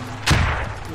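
A frag grenade goes off in the military shooter Squad with a sudden loud, deep blast about a third of the way in, trailing into a rumbling decay over steady background noise.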